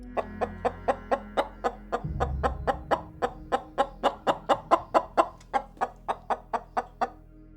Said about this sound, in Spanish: Las gallinas, lamentando la pérdida de su dueña, empezaron a cacarear